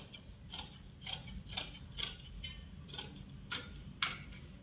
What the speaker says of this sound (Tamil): இப்போ இந்த வளைவு கட் பண்ணிக்கலாம் ரெண்டையும் சேர்த்து.